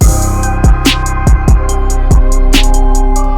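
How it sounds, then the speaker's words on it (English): Deep, booming 808 bass notes sustain under a Memphis trap beat with crisp hi-hats and punchy kicks, loud and continuous throughout. "Nice sustained 808."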